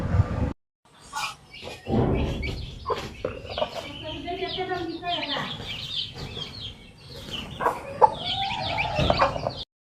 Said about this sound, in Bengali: এইখানে হচ্ছে আরেকটা মুরগি